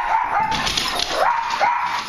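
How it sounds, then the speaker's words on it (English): Dogs barking indoors at home, a few sharp yips and barks close by in quick succession with a whimpering tone. "So why are they barking?"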